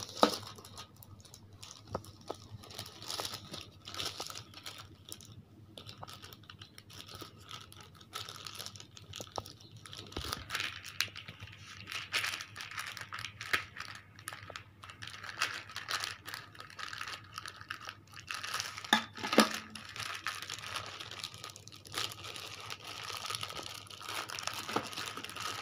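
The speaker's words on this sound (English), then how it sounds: "And now I will cut this package." A paper package from Amazon holding a storybook is cut and torn open close up, with a long run of crinkling, rustling and small scratchy cuts at an uneven pace and a few sharper snips and rips.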